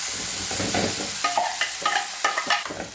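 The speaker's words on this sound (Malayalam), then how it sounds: "ഇതിലേക്ക് നമുക്ക് തക്കാളിയും കൂടി ചേർത്തിട്ട് മിക്സ് ചെയ്ത് കൊടുക്കാം." Tomatoes and garlic sizzle in a hot pan while a spoon stirs them, giving a steady close frying hiss broken by several scraping strokes toward the end.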